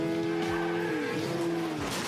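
Racing motorcycle in a film crash scene, with loud sweeping engine whines and screeching, sliding tones rising and falling over about two seconds, heard alone without voices.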